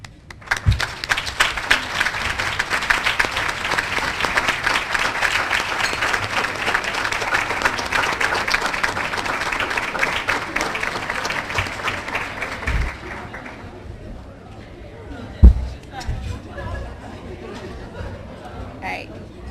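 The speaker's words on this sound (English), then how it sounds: "will the students gathered here this evening please stand and join me in applauding the people responsible for this event" Students standing at an evening awards dinner applaud the event organizers, a long, dense round of clapping mixed with crowd chatter that tapers off after about thirteen seconds into murmuring and a few scattered knocks.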